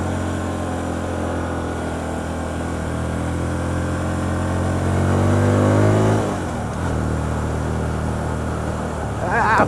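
The engine of a Hyosung GT125R motorcycle hums, then climbs in pitch as the rider eases the clutch and pulls away. The pitch drops back at the shift, and wind noise stays steady underneath throughout.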